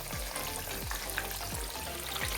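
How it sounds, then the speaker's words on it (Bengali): Pieces of fish fry crackle in hot oil in a frying pan over a high gas flame, a dense, steady sizzle close by with a soft low whoosh recurring about every second. "এপিট ওপিট ভালোভাবে ভেজে নিচ্ছি, যাতে লাল করে ভাজা হয় সেই দিকে খেয়াল রাখছি।"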